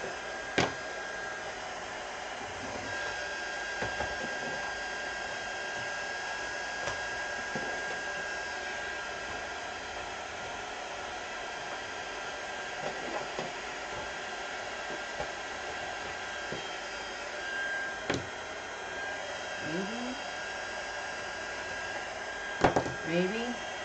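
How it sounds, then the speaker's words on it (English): Hair dryer blowing steadily to dry paint on an art journal page, a continuous close whir running throughout with only faint handling noises. "I'm just going to do a quick dry"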